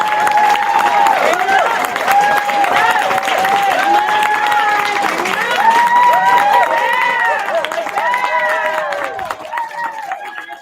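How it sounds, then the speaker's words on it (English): A crowd at a psychic and energy-healing expo in Reno claps and cheers steadily, a loud dense wash of applause with shouting voices mixed through it from start to end. "Start clapping, jump."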